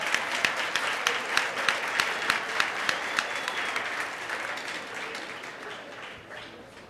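A crowd at a 2016 graduation ceremony applauds. Sharp individual claps stand out over the steady clapping, which then gradually thins and fades.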